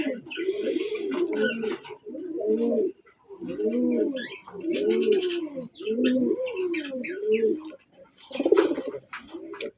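A male native Golla pigeon coos almost nonstop, repeating rolling, throaty phrases with brief gaps between them, loud and close throughout.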